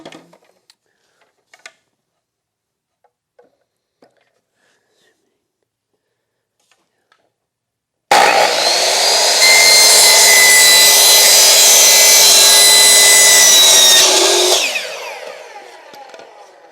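A saw cutting pipe lengths for the waste tank plumbing of a 1966 Airstream Ambassador, heard as several seconds of loud, steady, rasping sawing that follows near-silence and then trails off.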